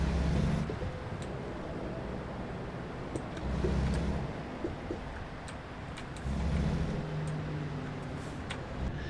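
A truck driving along the road in American Truck Simulator, a steady low engine drone and tyre rumble with periodic louder low swells, under soft road ambience and no talk.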